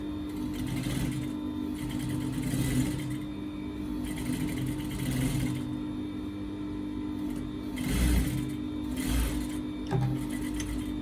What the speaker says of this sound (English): So I want to be able to stitch that part that I showed you earlier.